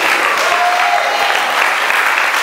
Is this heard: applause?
yes